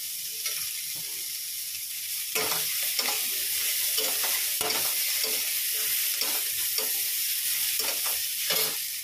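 Mixed vegetables with lentil dumplings fry in a pan tempered with five-spice and dried red chillies, a steady sizzle giving way to brisk, repeated stirring scrapes heard up close.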